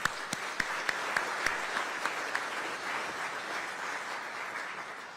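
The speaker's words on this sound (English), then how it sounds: "Please give another round of applause to the CEO of Gripple, Mr. Jonathan Palmerston." An evening innovation and technology event audience applauds the CEO of Gripple. A few sharp, separate claps ring out first, then merge into a steady round of moderate, somewhat distant clapping from many hands.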